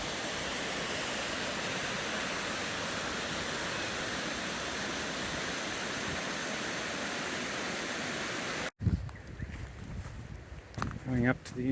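Constant roaring rush of a nearby waterfall on a Mount Granya hiking trail fills most of the stretch, then cuts off abruptly, leaving quieter outdoor sounds and a voice.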